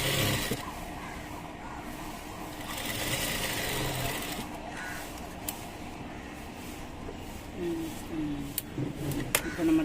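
A domestic sewing machine stitches fabric in a steady mechanical whir that runs almost the whole time, with small shifts in pace and a few sharp clicks near the end.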